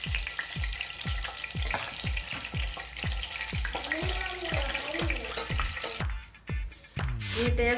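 Kadhi pakoras fry in hot ghee over a low flame, a continuous close bubbling sizzle with repeated pulsing crackles.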